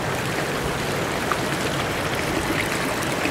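Water from a fish pond's overflow pump line pours out steadily in a continuous, loud, close rushing trickle with no pauses.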